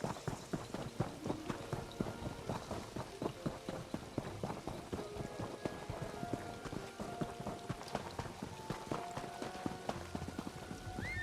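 Horse hooves gallop in Elder Scrolls Online, a fast continuous clatter of clip-clop beats, loud and close, with faint game music tones underneath.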